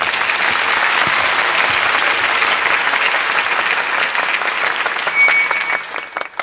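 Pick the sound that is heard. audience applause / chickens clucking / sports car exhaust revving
audience applause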